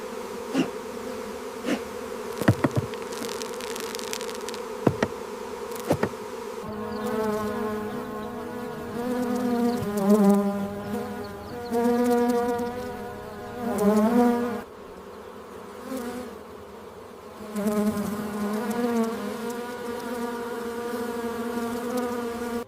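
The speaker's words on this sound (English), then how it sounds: "As thousands of bees return with nectar, they ensure the continuous natural supply that supports the production of pure, high-quality honey" Honey bees at a commercial apiary buzzing steadily in a dense droning swarm, with a few sharp clicks early on and rising, wavering hum swells later, no voices.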